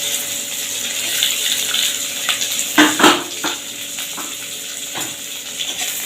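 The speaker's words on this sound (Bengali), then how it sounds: "পেঁয়াজটাকে আমি লাল লাল করে ভেজে নেবো" Chopped onion, added after cumin seeds and bay leaves, fries in hot oil in a wok, producing a continuous bright sizzle with a few louder stirring scrapes and crackles near the middle.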